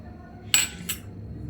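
Ice being taken out at home for cold coffee gives two quick, close clinks of hard pieces against a container, a fraction of a second apart, in an otherwise quiet kitchen.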